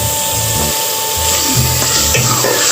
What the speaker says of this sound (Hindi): देखिए प्याज भून रही हूँ अभी।